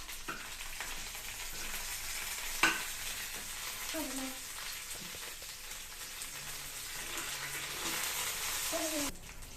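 Green chillies and curry leaves frying in a pan for egg curry, with a steady close sizzle, a sharp clink of the spoon near the start and scraping stirs throughout, no voices.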